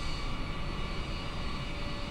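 Boeing 787 jet engines in Microsoft Flight Simulator 2020 on Xbox Series S, a steady loud broadband roar and whine while taxiing, with no talk.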